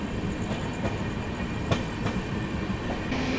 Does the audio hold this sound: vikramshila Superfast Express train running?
yes